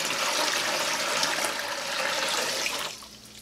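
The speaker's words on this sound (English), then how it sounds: "So I also have a gallon of cool water" A gallon of cool water pours steadily into a turkey brine with a loud, continuous splashing rush that cuts off abruptly near the end, leaving only a faint residual trickle.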